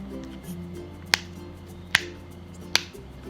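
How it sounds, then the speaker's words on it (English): A pop-it bubble fidget toy pressed by hand gives three sharp, separate pops at an even, unhurried pace, close and fairly clear over a faint steady background hum. "a mild pop sound"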